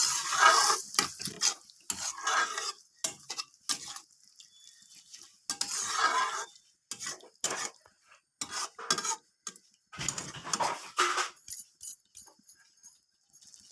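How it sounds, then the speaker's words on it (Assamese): Meat being stirred in a metal cooking pot while salt is mixed in, heard as intermittent scraping and clinking of a spoon against the pot in short bursts, close up and otherwise quiet. "মই মাংসখিনি ভালকৈ লৰাই মাংসখিনি ভালকৈ সিজিব দিম।"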